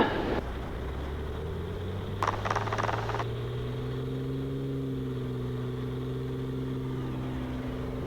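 Single-engine Piper Comanche piston aircraft at power during a go-around: a steady, loud drone with a slowly rising engine tone, heard from inside the cabin, with a brief rattly burst partway through.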